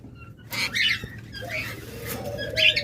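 Pet lovebirds, budgerigars and Java sparrows kept for breeding, many sitting on eggs, give a few short bursts of chirps and squawks over a low steady background hum.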